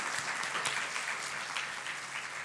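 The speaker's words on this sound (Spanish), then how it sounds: "Vamos a darle un aplauso al Señor porque Él es la propiciación." A church congregation claps steadily together for about two seconds, a dense, even wash of applause filling the room with no voices on top.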